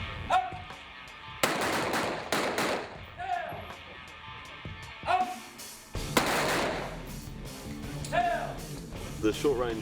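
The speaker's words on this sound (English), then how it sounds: "It was just a good experience to fire the rifles" Rifle fire on a short-range shooting practice during an air force recruit course, with repeated loud sharp bursts and single shots spaced across the clip, some rapid strings of reports echoing outdoors.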